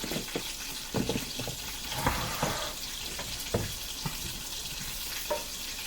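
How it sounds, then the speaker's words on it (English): Water pours and splashes from a pot of cooked green beans being drained in a kitchen sink, with intermittent clatters and knocks over a steady rushing flow. "And then I'm going to drain my green beans."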